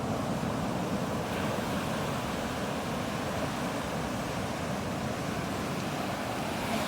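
Ocean waves and surf wash steadily along Natural Bridges Beach, a constant broad roar at low tide with wind buffeting the microphone throughout and no voices.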